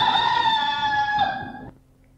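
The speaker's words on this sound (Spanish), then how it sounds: "y cantó el gallo" A rooster crows once in a long, drawn-out call that holds steady and then cuts off sharply, leaving near silence; close and clear with no voices.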